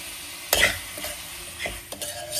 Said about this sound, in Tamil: சேர்த்துட்டு அப்படியே வதக்கிடுவோம்.